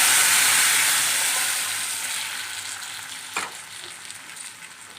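A tempering of spices sizzles loudly in hot oil for tamarind rasam, a bright frying hiss that fades gradually, with a brief clatter partway through.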